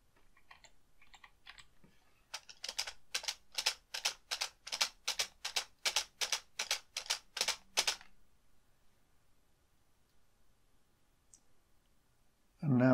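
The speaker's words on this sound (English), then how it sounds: "And I need to type in a further 14 spaces." Spaces are typed on a computer keyboard in a quick run of about fourteen crisp, evenly spaced clicks, close and alone, followed by silence and a brief voice at the very end.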